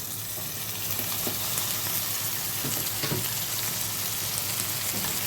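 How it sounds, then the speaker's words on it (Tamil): Tomatoes hit a pan of sautéed onions for a mushroom pepper masala, giving a soft continuous sizzle with faint stirring scrapes, fairly quiet and steady throughout. "இப்போ வந்து நம்ம தக்காளி ஆட் பண்ணிப்போம்."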